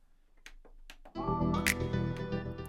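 A vocal sample shaped with high-pass and low-pass EQ, the low pass near 1.5 kHz, enters after a second of sparse clicks and then sustains as a muffled, distant-sounding musical phrase.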